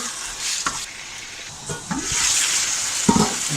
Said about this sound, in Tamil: சிக்கன் இப்போ நல்லா எண்ணெயிலே கொஞ்சம் குக் ஆகிட்டுருக்குது